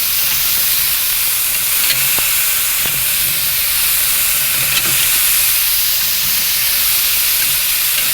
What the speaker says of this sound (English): So I'm gonna burp the dome.